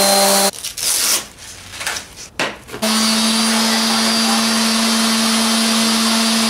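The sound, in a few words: palm sander sanding wood stump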